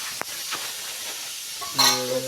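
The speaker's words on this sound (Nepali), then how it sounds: "दुध चलाउँदा चलाउँदै" Milk being stirred in a pot in a village kitchen for rice pudding gives a short, soft scraping and swirling, with a brief brighter tonal burst near the end.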